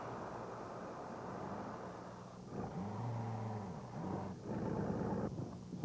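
A 1955 Pontiac runs a compressor through a belt fitted to its rear wheel. The engine gives a steady, moderately loud hum whose pitch rises and dips a few times, with no voices.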